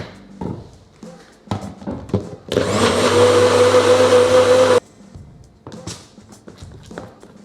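A NutriBullet blender whizzes water, mustard and vinegar as the base for homemade mayonnaise, a loud steady motor whine lasting about two seconds, framed by quieter knocks and handling noises before and after.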